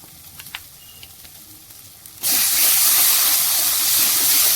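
Black pepper, coriander and cumin powders with tomato ketchup and bhetki fish hitting a hot pan, a sudden loud steady sizzle bursting in after quiet clinks and continuing up close.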